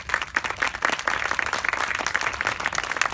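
Audience applause at an anniversary gathering, brisk overlapping claps from a room of people at moderate level, steady throughout with individual hand strikes standing out.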